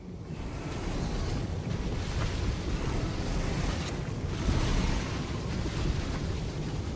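Rushing water fills a chamber as the level rises in Baldur's Gate 3, a loud, continuous churning roar like surf that stays steady throughout with no voices.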